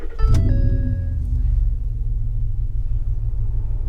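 A 2012 Ford F-150 SVT Raptor engine cranks briefly and catches, then settles into a steady, deep, rumbling idle close by with no talking.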